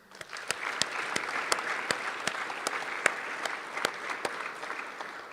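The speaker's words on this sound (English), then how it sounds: "If we can give them a round of applause." Sustained applause from legislators and guests in the House chamber of a state legislature, a steady dense patter of clapping with a few sharper individual claps standing out, lasting throughout without speech.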